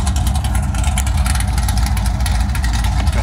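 A heavy Chevy with a 307 or 350 V8 sits idling close by, its deep, even rumble holding steady and loud throughout with no voices over it.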